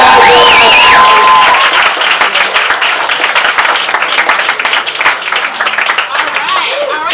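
A live comedy-show audience claps and cheers for a comedian. A host's voice rings out over the opening second, then loud, dense clapping with scattered whoops carries through to the end.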